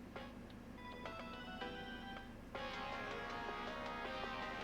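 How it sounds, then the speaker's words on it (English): A phone ringtone plays a bright, repeating electronic melody of short tones, with a louder, fuller section partway through, heard over a steady low background hum. "That's my old ringtone."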